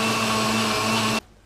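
Blender whirring through a banana smoothie, a loud, steady motor roar with a constant hum that cuts off abruptly after about a second, leaving near silence.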